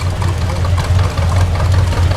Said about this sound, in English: it's still a 2-cylinder tractor run by a magneto